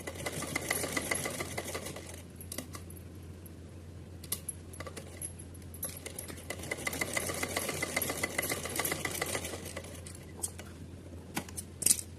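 An electric sewing machine runs in bursts, stitching a seam on a small green summer outfit for a Kanha ji idol, with a steady low hum underneath and sharp clicks and clatters between runs.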